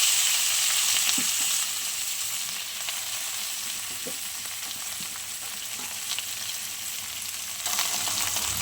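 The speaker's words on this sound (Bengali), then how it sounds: "এখানে কালো জিরে, কাঁচা লঙ্কা, শুকনো লঙ্কা আর রসুন ফোড়ন দিয়ে দিয়েছি" Black cumin, green and dry chillies and garlic fry in hot oil with a steady, bright sizzle that holds throughout, with a few soft stirring knocks.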